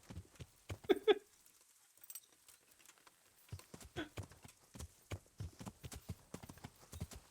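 Horse hooves clip-clop in a video game, a string of crisp, uneven hoofbeats close by with brief gaps, heard without any speech.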